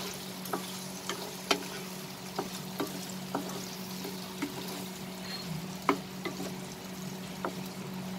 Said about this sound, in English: put the flame into medium and saute everything together